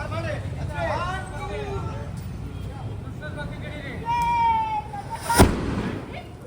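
A Diwali flower pot firework bursts with a sudden loud bang near the end, after a few seconds of excited festival crowd chatter and voices, with a brief whistling hiss just before the blast.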